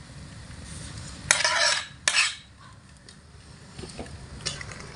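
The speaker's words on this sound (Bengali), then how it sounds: "সবজিগুলোকে দিয়ে দিলাম হালকা একটু নাড়াচাড়া করে দিচ্ছি" Fried beans, potatoes and eggplant are tipped into a simmering pot and stirred, with two sharp clattering metal scrapes of a spoon against the pot over a soft, constant bubbling sizzle.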